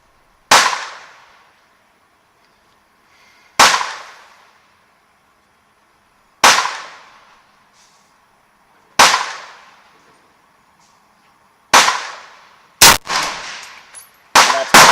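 Sharp rifle shots ring out while zeroing an ATN X Sight II scope, loud and close, spaced a few seconds apart at first and then coming in a quicker cluster near the end.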